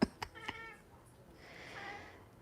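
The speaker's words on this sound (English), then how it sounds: "It's my cat. He sees a bird." A house cat meows at a bird outside, giving a few short, sharp calls at the start followed by a longer, drawn-out meow, close and fairly quiet, with no one talking.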